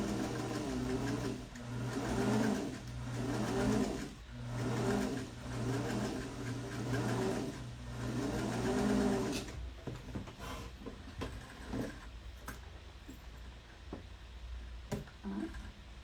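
A sewing machine stitches patchwork in rhythmic runs of a steady whirring hum, each lasting one to two seconds and separated by short pauses, for about nine seconds, followed by quieter clicks and handling sounds.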